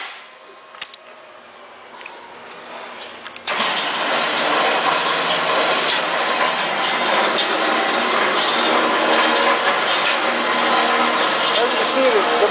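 A Dake JH10W3 band saw's motor starts after a quiet stretch, then runs steadily and loudly with a broad whirring hum, shuddering slightly as it holds speed.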